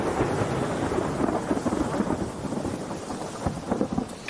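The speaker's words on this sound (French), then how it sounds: "le tonnerre gronde." Thunder rumbling in a storm with rain, a deep sustained roll that swells and fades over steady rainfall, loud and enveloping with no voices.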